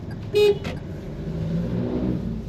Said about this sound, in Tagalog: Thank you, busina ka.